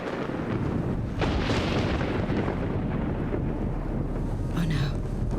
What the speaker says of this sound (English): Lightning must have struck something.